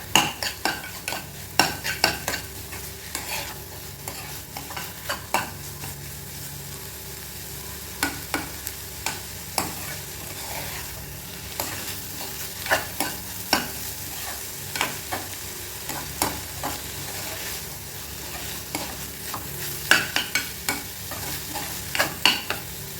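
Egg frying and being stirred in a pan for a banana flower stir-fry: a continuous close sizzle broken by frequent sharp scrapes and clicks of a utensil against the pan, with no talking.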